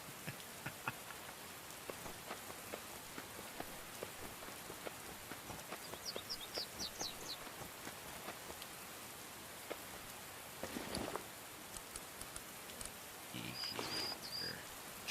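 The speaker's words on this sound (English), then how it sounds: "now it wants to rain all the fucking time" Steady rain falling in the video game Myth of Empires, a constant hiss of drops with brief chirps and a louder rustle near the end.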